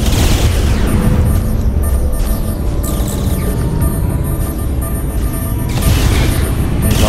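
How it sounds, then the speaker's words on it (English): Proximity mines launched and detonating in the space combat game Fractured Space, heard as a dense, continuous wall of booming blasts and rumbling explosions, loud and sustained throughout with brief bright bursts near the start and end. "Let's fire those proximity mines."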